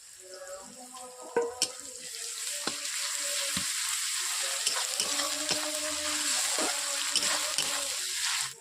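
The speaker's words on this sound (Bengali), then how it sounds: "আমি পেঁয়াজগুলো একটু বেশি ভাজা ভাজা করবো না এরপর দিয়ে দিচ্ছি আদা রসুনের বাটা" Onions sizzling in hot oil in a pan as ginger-garlic paste goes in, while cooking a spicy silver carp curry: a continuous crackling fry with sharp clicks and stirring clatters throughout, close and clear, with no talking.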